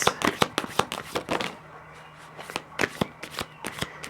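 A tarot deck is shuffled close by in quick bursts of riffling card slaps, a busy flurry that pauses briefly before a few more sharp card taps follow.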